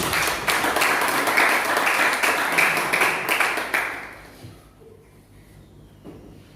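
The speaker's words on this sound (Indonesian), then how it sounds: "Berikan tepuk tangan bagi Tuhan" A church congregation breaks into applause during a Sunday service, a steady burst of many hands clapping that fades out after about four seconds into near quiet.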